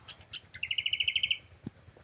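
A bird chirps in a quick, even series of about a dozen bright, high tweets, preceded by a few scattered calls and followed by a soft knock, fairly faint against a quiet background.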